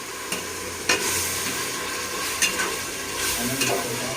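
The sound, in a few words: chicken marinated in curd sautéing in a pan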